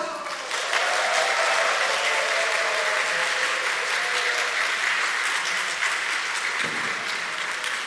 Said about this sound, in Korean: 큰 박수로 맞이.